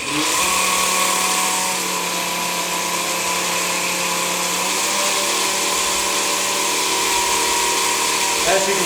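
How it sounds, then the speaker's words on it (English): An ADS1000MOB diesel fuel polisher runs while pumping fuel from a tank, giving a steady, even motor hum and whir with constant loudness throughout and no break in the drone. "As you can probably hear, the machine is quite quiet."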